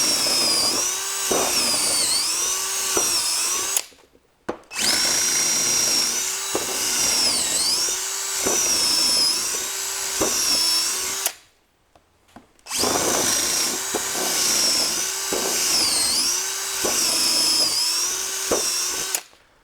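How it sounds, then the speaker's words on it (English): A Hercules drill bores three holes into wood, one after another: three sustained, loud whining runs, each cut off by a short silent pause. "We're going to drill 3 holes here."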